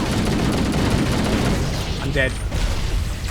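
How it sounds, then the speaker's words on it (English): Explosions and gunfire in a shooter video game with a shotgun in play, dense continuous rumbling blasts throughout, with a player speaking briefly over the din. "what the hell is exploding in here?"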